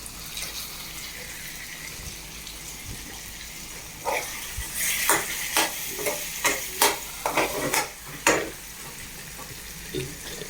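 Spinach and tomatoes sautéing in a pan, a steady sizzle with a run of scraping stirs in the second half, close and fairly loud, no talk.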